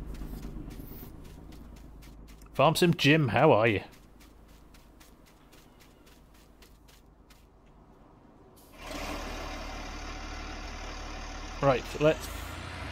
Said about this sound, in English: it's such a shame the engine sound on this isn't that good